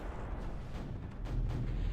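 A big area-of-effect artillery shot from an Ogre unit in the Zero-K video game lands as a loud, deep, rumbling boom that holds steady and swells slightly toward the end, with no talking.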